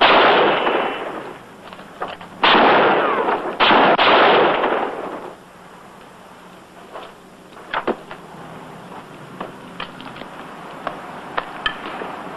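Gunfire in an old film shootout: loud broadband bursts in the first few seconds, several shots in quick succession, then fainter sharp cracks scattered through a quieter stretch.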